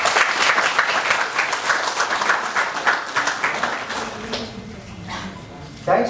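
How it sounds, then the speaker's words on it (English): An audience applauds at a panel discussion, with dense clapping that is loud at first, then thins out and fades over a few seconds. "round of applause."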